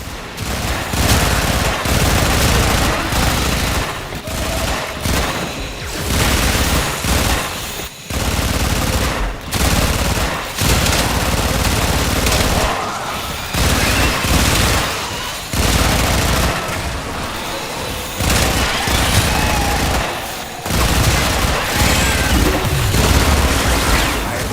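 Rapid bursts of gunfire and booming explosions in Warframe pound almost continuously, with brief gaps between volleys, loud and close.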